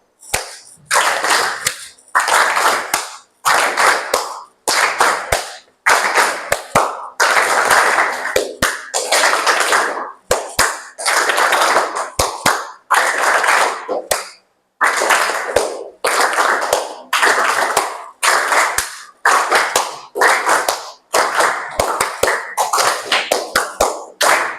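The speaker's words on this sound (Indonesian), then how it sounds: "Kalau ibu tepuk tangannya 1 kali, kalian balas 2 kali." Teacher and pupils in a classroom playing a call-and-response clapping game: loud, sharp group handclaps in rapid bursts, steady rhythmic rounds separated by short pauses, with no talking.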